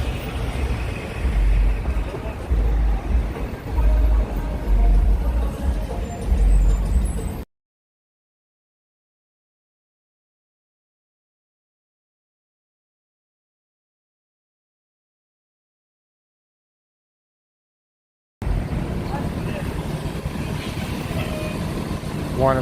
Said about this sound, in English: One of the city buses, M31.